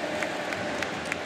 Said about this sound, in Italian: fuori Ciala, applausi ancora di più per lui.